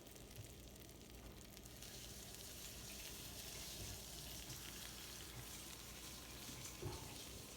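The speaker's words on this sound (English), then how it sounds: "You can hear the butter and sugar sizzling." Butter and sugar sizzling on warm cinnamon rolls, a soft, steady crackling hiss that runs continuously at low level with no talk over it.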